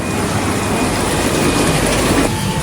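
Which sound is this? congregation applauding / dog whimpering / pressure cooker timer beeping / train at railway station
train at railway station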